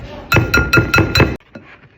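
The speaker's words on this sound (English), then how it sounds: "whisk together" A whisk stirs dry flour, baking powder, salt and nutmeg together in a bowl, making five quick, sharp clinks in a steady rhythm before a softer final tap.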